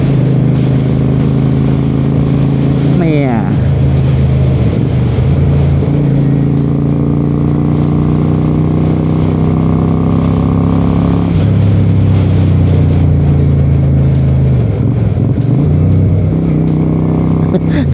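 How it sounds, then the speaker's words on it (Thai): A loud, close 1992 Honda Shadow 400 cruiser motorcycle idling with a deep throbbing exhaust, occasionally revving up and dropping back, with someone talking faintly underneath. "เสียงท่อนี่เพาะจริง ๆ"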